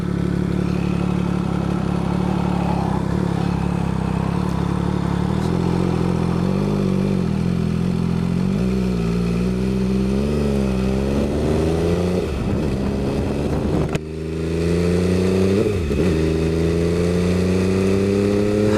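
An MV Agusta F3 800 motorcycle ridden on a wet road, its engine droning steadily and then rising and falling through gear changes, heard loud and close over wind noise.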